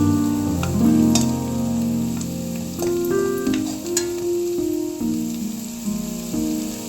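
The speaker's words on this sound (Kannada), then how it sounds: "ಇದನ್ನು ಚೆನ್ನಾಗಿ ಸ್ವಲ್ಪ ಈರುಳ್ಳಿ ಕಲರ್ ಚೇಂಜ್ ಆಗೋವರೆಗೂ ಫ್ರೈ ಮಾಡಬೇಕು" Onions fry in a pan for churumuri susla, a Karnataka dish. The sizzle is steady and close, with occasional stirring scrapes and clinks, and no talking.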